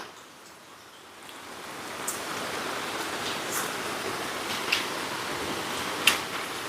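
Heavy rain falls steadily on a hilltop campsite, a dense broadband hiss that swells after the first second and holds, with occasional louder drops or splashes standing out close by.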